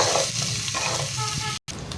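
Sautéed onion and garlic stirred in a frying pan, a steady sizzle with scraping, stirring texture throughout and a brief drop to silence near the end.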